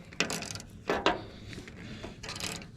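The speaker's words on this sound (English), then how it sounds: "I got another little ratchet out here, but just for it's just quicker." A small ratchet wrench turning bolts on a John Deere 1209 mower during sickle replacement, with several short clicking ratchet bursts and metallic handling noises, close up and moderately quiet.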